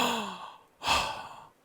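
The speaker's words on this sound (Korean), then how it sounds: "하품을 한번 해보시겠어요?" A single person yawns during a singing and vocal technique lesson: a short, drawn-out voiced tone slides downward, then a loud, breathy exhale swells up and slowly fades out, close to the listener with no talking.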